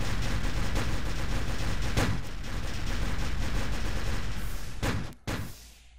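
Rapid gunfire in a Minecraft-style game, a dense, loud burst of shots running almost continuously with a sharp blast near the end, then quieter.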